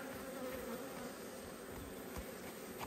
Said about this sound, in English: I'm not dealing with stingy bees, mate